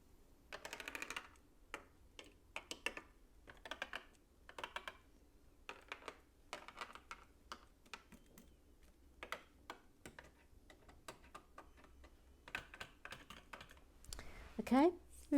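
Light metallic rattling and clicking from the moving mechanism of a LEGO Haunted House 10273 set, a quiet run of irregular ticking bursts close by, with some faint background talk.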